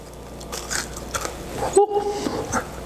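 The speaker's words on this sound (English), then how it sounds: "I don't know if you can hear the crunchiness, but they are indeed super crunchy." Someone bites into crunchy air-fried okra, giving one short close crunch near the middle amid a quiet background.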